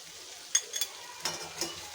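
Ivy gourd with grated coconut is stir-fried in a pan, a quiet sizzle under a few quick spatula scrapes and taps, close up and brief, with no voices.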